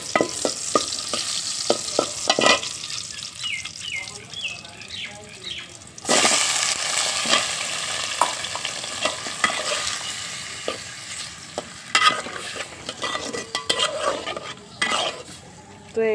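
Onions and green chilies frying in hot oil in a pot, stirred with a utensil that scrapes and clinks against the metal, a steady sizzle rising sharply partway through, with occasional talk in the background.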